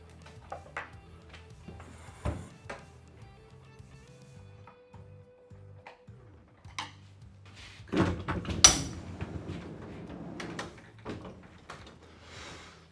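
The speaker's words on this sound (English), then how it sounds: "I'm just going to release them and then slide the door in." A REVEGO Duo sliding door eased into its wall pocket during a final on-site installation, with light clicks of clips being released, a low rolling rumble, then a louder thud and rattle as the panel seats, all without talk.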